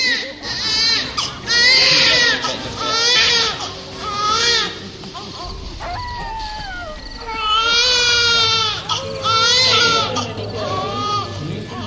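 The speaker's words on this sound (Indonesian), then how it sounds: "saat telinganya mendengar suara tangisan bayi melengking" Shrill, high-pitched wailing of a newborn baby comes in repeated rising cries with brief pauses, loud and close, over a murky background.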